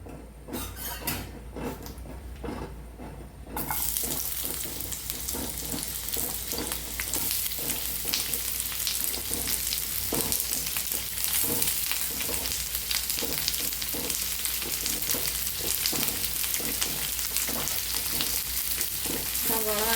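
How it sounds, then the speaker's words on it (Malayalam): Sliced onions sauté in coconut oil in a frying pan, a dense close sizzle with frequent spatula stirs and scrapes, the sizzle jumping louder after a few seconds and holding steady. "നമുക്ക് നമ്മുടെ സബോള ഒക്കെ ഒന്ന് വഴറ്റിയെടുക്കാം"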